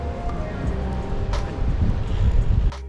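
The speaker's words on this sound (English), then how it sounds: "The wind is blowing quite hard." Strong wind buffets the microphone while cycling a Kona Sutra touring bike along Thunderbolts Way out of Uralla, producing a steady, loud low rumble that continues without a break.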